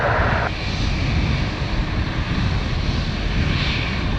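Fixed-wing airliner departing a runway at Dublin Airport and climbing out, its engines a loud steady roar that holds throughout with a slight swell near the end, no voices over it.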